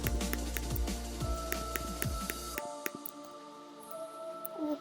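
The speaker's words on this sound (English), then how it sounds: "Now we're going to add the glass into these holes." Blocks of glass are placed one after another in Minecraft, giving a quick series of soft, crisp placement clicks that sit over game background sound and then thin out near the end.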